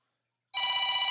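A telephone rings on the line while a caller is being called back during a talk broadcast, a steady electronic ringing tone that starts abruptly partway through and holds clear and close.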